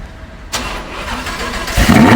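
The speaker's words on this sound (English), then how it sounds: "So now we are going to listen a very cold start of this car." An Audi R8 LMX's naturally aspirated V10 engine cranks from cold and fires up abruptly, then roars loudly and revs higher toward the end.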